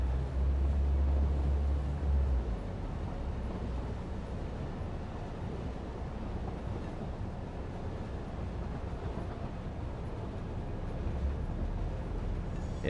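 A train in the Satisfactory video game rolls along its tracks as a steady, continuous rumble. It is loudest at the start, then settles into an even, moderately loud drone.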